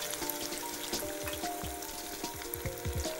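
Oil sizzles and crackles steadily as potatoes fry, with soft pops and stirring bumps throughout, close and continuous.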